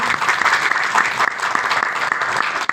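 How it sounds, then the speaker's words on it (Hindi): Loud, dense applause from a seated audience at a presentation on blockchain education, steady throughout with scattered sharper claps poking through. "जोरदार तालियां।"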